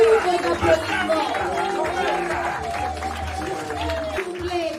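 Crowd applause at a political rally, moderate clapping and cheering that carries on under a prominent voice on a loudspeaker talking over it throughout.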